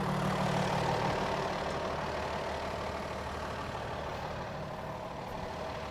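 Cummins 8.9 liter diesel engine in a Freightliner M2 106 truck running at a steady, even idle, a continuous low rumble heard up close with no talking.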